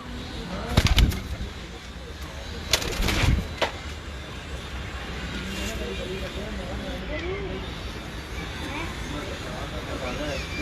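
Champion racing pigeons cooing softly in a loft, low murmuring calls running under a man's speech, with a few sharp knocks and flutters early on.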